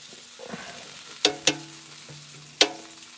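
Hand-cut thick hash browns frying in a pan and being stirred, a soft sizzle underneath with three sharp utensil clinks against the pan, close and with no talk.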